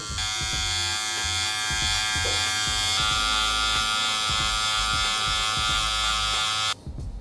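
Gamma Rogue hair trimmer removing bulk from curly hair during a low taper cut, a loud continuous electric buzz with a high whine, steady until it cuts off near the end.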